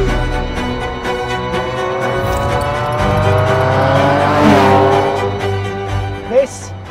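A McLaren F1 and a GMA T.50 supercar driving together, a loud sustained engine note rising and falling in pitch with revving, steady and close throughout.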